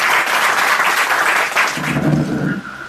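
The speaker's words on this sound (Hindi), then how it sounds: "तालियां बजाकर उनका स्वागत करेंगे" An audience at a spiritual seminar in a rehab centre in Maharashtra claps steadily to welcome visiting guests, a dense, sustained round of applause that eases off near the end, with a low voice briefly underneath.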